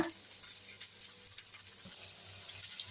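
Matti mackerel fish fry sizzles in a pan with masala and oil, a steady close hiss and crackle with small pops throughout, and no one speaking.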